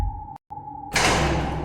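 A single metallic clang in the game The Seance of Blake Manor, struck near a courtyard: a sharp hit ringing as a sustained tone, a brief cut, then a loud broad noisy wash that lingers.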